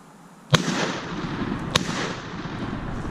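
Two sharp shotgun blasts ring out during a duck hunt on shallow water, aimed at a downed mallard. The first is loud and close, the second about a second later, each followed by a lingering echo across the open marsh.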